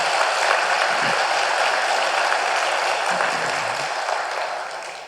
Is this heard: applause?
yes